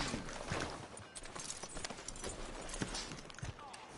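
Horse hooves clop at a run in the video game Red Dead Redemption 2, faint and quick, mixed with busy background game sounds.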